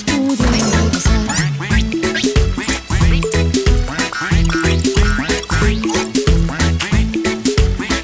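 A cartoon mother duck quacks in a children's Spanish song, repeated bright quacks set to a lively rhythmic tune with loud, steady backing music throughout.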